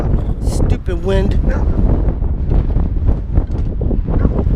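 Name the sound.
strong wind blowing outdoors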